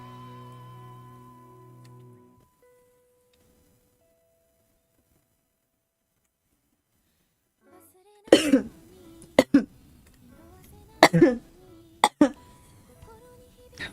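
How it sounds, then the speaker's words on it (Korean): A girl coughs in several short, harsh bursts with throat-clearing, close to the microphone, after a quiet stretch that opens with faint background sound. "아니 기침이 너무 나오네."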